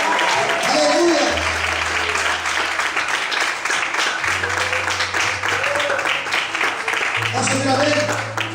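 A church congregation applauds through the whole stretch, steady clapping with cheers mixed in, while a preacher's voice and low organ or keyboard chords carry over it.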